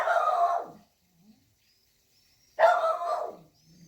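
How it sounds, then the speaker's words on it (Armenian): A dog outdoors on a farm plot gives two fairly close, loud barks separated by a pause of about two seconds, with quiet between them. "Մեր շունը ինչպես միշտ դերի մեջ է, անընդհատ հաչում է, անընդհատ"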